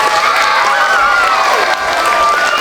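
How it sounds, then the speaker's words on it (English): An audience at an opera singer's presentation gives loud applause mixed with cheering and excited vocal shouts, with a sustained tonal voice ringing through the crowd noise. "Ladies and gentlemen, show us a round of applause."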